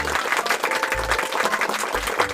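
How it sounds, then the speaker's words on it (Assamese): Cartoon audience applause for Tenki Barua, invited on stage to recite a poem at a Bihu event, steady clapping that carries on for a couple of seconds alongside low background tones. "টেংকিৰ বাবে হাত চাপৰি এটা মাৰি দিয়ে।"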